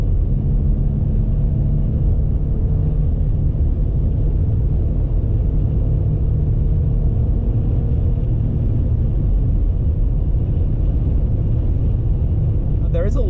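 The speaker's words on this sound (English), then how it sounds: "There is a little bit of wind noise" Wind noise and road rumble fill the cab of a 2021 Jeep Gladiator Mojave fitted with a headliner, heard from inside while driving as a steady, loud, low roar with no break.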